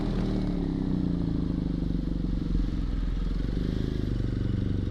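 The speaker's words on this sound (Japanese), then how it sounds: "久々のバイクですね。" A BMW R1200GS Rallye motorcycle being ridden, its engine droning steadily and close throughout with a constant low rumble and wind noise, no pauses.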